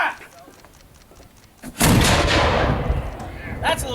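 A single loud historic cannon shot booms at a Fort Loudoun firing demonstration, a sharp blast followed by a long rumbling decay, with faint talk before it.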